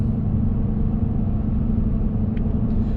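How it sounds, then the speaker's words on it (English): Steady broadband tire roar from a 2019 Ram 1500 pickup rolling over a concrete road, constant and close, with a low rumble underneath and no voices. "We're on concrete right now, by the way, also, so the tires are slightly louder."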